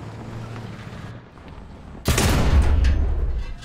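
Tank cannon fire in the War Thunder video game, a sudden loud blast that breaks a low engine rumble and rolls on into a heavy booming tail.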